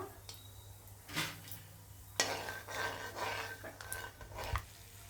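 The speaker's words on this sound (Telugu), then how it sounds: "ఆయిల్ బాగా వేడెక్కిందండి. ఇగో 30 పల్లీలు వేస్తున్నాను దీంట్లో." Thirty peanuts frying in well-heated oil for a Kaka rakata fry, with a faint, uneven sizzle and crackle broken by a few soft bursts and clatters, no talk.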